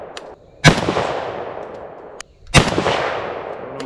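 Two loud rifle shots from a Romanian SAR2 AK74, about two seconds apart outdoors, each a sharp crack followed by a long fading echo.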